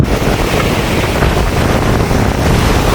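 Stormy sea at Point Pedro sends waves crashing against a high wall, a loud, continuous roar of surf mixed with heavy wind buffeting close by.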